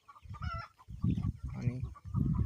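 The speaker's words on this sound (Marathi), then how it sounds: "छोटे पक्षी देखील किती आवडीने घास खात आहेत" Young native gavran chickens, one to one and a half months old, feed on fresh fenugreek fodder at a village poultry farm, giving repeated soft clucks and fowl calls in short close bursts.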